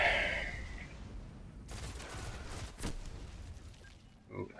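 Video game gunfire, a brief volley of shots at about the midpoint followed by a single sharper crack, fairly faint against a low background hiss.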